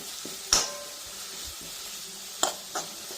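Onions and tomato sautéing in a pan for chickpea curry, a steady soft sizzle with a few sharp stirring scrapes of the spoon against the pan.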